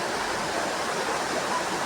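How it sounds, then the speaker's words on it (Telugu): Heavy rain pouring steadily near a home where water has pooled like ponds, a dense even hiss with no pauses, moderately loud and alone. "చూడండి ఎంత ఫుల్ వర్షమో"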